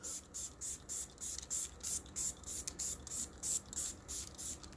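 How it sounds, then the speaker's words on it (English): A makeup setting spray bottle fires in a rapid series of about fourteen short, sharp hissing bursts, evenly spaced and close up, with brief pauses between each spritz. "And I'm just going to shake it up. We're going to spray the face"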